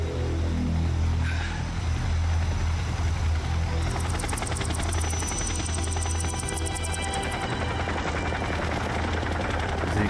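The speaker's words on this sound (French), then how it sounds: "Les hélicoptères de Volgin." Helicopters in Metal Gear Solid 3: Snake Eater, a loud steady rotor drone with a rapid chopping beat that fills the whole stretch, rising to a sharper rattling pulse midway, close and continuous.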